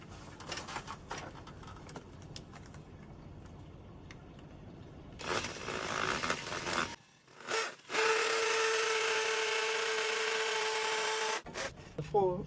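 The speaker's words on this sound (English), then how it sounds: "Now we're going to use a 6mm drill bit. Of course I'll put it on the hammer motion" A hammer drill with a 6mm bit bores holes for mounting a floodlight. Tool noise and rasping come and go first, then a loud, steady, whining drilling run lasts several seconds before it stops, with a person talking at times.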